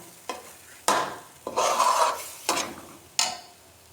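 Semolina mawa being stirred and roasted in a pan for gulab jamun, heard as close, repeated scraping strokes with a light sizzle, several distinct passes in an uneven rhythm and no talking.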